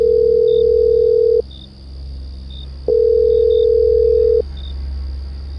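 Telephone ringback tone during a call to a prison, two long loud steady beeps separated by a gap, heard alone over a low hum.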